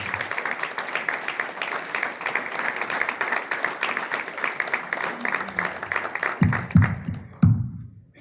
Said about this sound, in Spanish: Yo quiero pedirles un aplauso para cada uno de ellos.